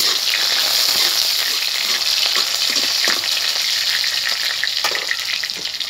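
Potato and pumpkin pieces fry in a pan for a home-cooked pui shak chorchori, giving a steady loud sizzle with occasional stirring scrapes and no voices.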